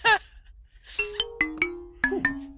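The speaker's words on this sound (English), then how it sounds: "Oh, I'm getting a phone call." A mobile phone ringtone for an incoming call plays close by as a short melodic sequence of bright tones, several rising notes repeated in a steady pattern and sounding alone.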